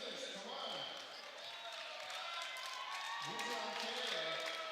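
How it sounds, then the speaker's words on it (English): Crowd noise at an adult volleyball league cup match, a busy hum of murmuring spectators and scattered claps and shouts at moderate distance, with a commentator's voice rising and falling over the top. "Listen to the crowd as they wait for the clock."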